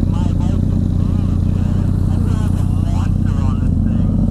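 Motorcycle engine of a Yamaha FZ09 or Honda CBR1000RR, a loud steady close-up drone under people talking.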